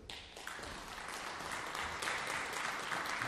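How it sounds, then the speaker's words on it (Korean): An audience at the opening of a Korean social culture college bursts into steady, dense applause to welcome a speaker. The clapping holds at an even level for the whole stretch. "큰 박수 부탁드리겠습니다."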